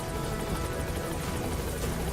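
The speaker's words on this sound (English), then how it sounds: "Snake's putting the guy in the helicopter on my screen" A helicopter in the video game Metal Gear Solid V: The Phantom Pain gives a steady, dense rotor drone with rapid chopping pulses, heard alone at moderate level.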